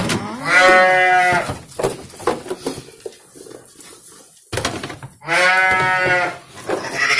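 Sheep on a farm calling out loudly at feeding time, with two long, strong bleats up close separated by a stretch of quieter rustling and clatter.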